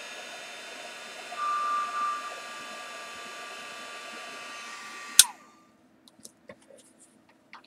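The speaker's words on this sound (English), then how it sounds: "I'm going to heat set it" A heat gun blows a steady, even hiss while heat-setting a glued embellishment on a spooky apothecary bottle, then cuts off abruptly with a click, followed by a few faint taps.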